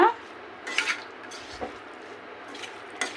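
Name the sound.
stirring potatoes with masala in a pan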